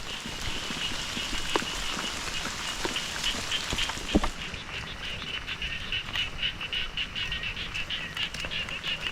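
Steady rain falls on a surface outdoors, a dense continuous patter with a few louder drops, heard alone at a constant level.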